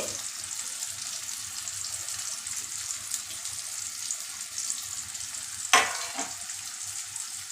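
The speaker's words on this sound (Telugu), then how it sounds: "ఇలా కార్న్ఫ్లవర్ వేసి చేపలు ఫ్రై చేస్తే చాలా బాగుంటుంది సిమ్లోనే పెట్టుకోవాలి" Cornflour-coated fish pieces frying gently in oil over a low flame, a soft continuous sizzle with a brief louder scrape or spatter late on, no one talking.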